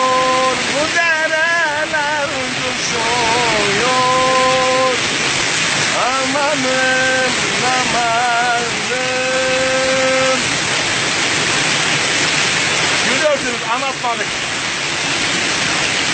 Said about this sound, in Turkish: Şırıl şırıl akıyor. Bu dereler coşuyor.